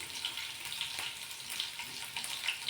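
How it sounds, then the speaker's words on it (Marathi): Garlic and green chili frying in a pan for a radish-leaf vegetable dish, giving a steady, soft hiss of oil sizzling with faint crackles throughout and no talking. "लसूण चांगला परतून घ्यायचा आणि लगेचच हिरवी मिरची टाकायची"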